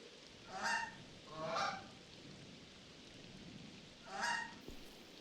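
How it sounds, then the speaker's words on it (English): Goose in the video game Tails Noir giving three distinct nasal honks, two close together and one later, heard clearly over a faint patter of rain. "Sneak past the goose."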